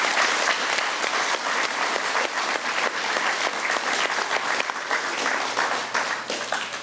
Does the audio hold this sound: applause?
yes